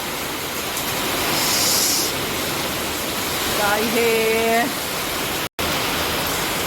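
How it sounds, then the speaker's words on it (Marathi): Rainwater pours from a roof gutter, tied up temporarily with wire, during a sudden stormy downpour at a home. It makes a loud, steady rushing wash throughout, and a voice briefly speaks partway through. "चढून मी आता ही पन्हाळी लावली तात्पुरती तारेनी परत पाणी चालू झालं"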